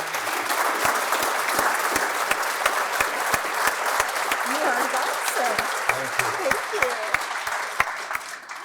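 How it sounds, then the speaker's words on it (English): Warm applause from an audience at an annual founders' meeting fills the room, honoring a founder honoree and community advocate; dense, steady clapping holds at an even level throughout. "I'd like to have one more round of applause for this amazing community advocate and our founder honoree, Dale Berry"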